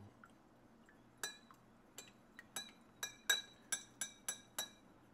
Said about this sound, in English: I'm going to go ahead and stir this.